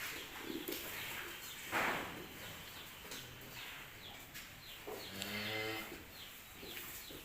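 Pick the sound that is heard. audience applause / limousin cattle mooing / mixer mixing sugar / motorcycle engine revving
limousin cattle mooing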